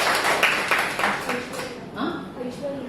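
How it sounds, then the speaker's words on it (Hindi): An audience at a hospital meditation session claps for a participant, a short burst of clapping with a few distinct claps that fades quickly as voices begin talking. "एक बार जोरदार तालियां बजाइए"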